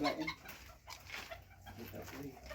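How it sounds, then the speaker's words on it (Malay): Serama chickens cluck in short, scattered calls among other birds in a home collection, with some faint voices nearby. "Ada ayam serama."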